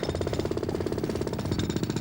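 A road drill hammers rapidly and loudly from about three feet away, a continuous fast pounding rattle with no voices.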